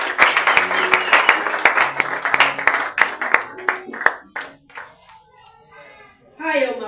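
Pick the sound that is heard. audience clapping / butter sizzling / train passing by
audience clapping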